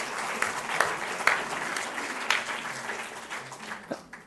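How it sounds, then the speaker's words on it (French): Audience applause at a talk about a Fields Medal mathematician, scattered claps thickening into a modest burst, fairly faint in a room. "Donc voilà, peut-être un petit applaudissement pour Mariam Mirzakhani."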